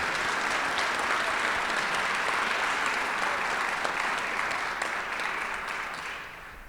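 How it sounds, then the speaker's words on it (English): Sustained applause from a sizable crowd at a Rotary meeting, dense and steady clapping that fills the whole stretch and tapers slightly toward the end. "I'd really like to give a round of applause to this board of directors."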